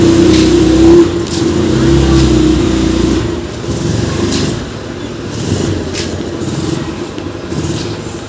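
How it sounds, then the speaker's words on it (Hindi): A family car being driven out of the house to leave, its engine running steadily and fairly loud and close, with a brief rev and some shifting engine tone throughout. "हम जी जा रहे हैं अब, पापा गाड़ी बाहर निकालने लगे हैं।"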